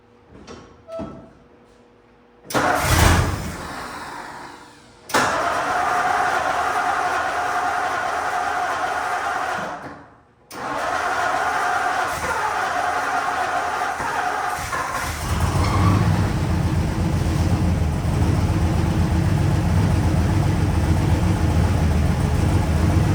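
An abandoned 1964 car's engine, fitted with new brake lines and a new oil pump, cranks in short bursts, then catches and runs with a steady, loud idle drone.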